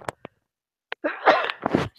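A sharp, loud sneeze bursting out close to the mic after two faint short sniffs or breaths, then a person starts talking right after it.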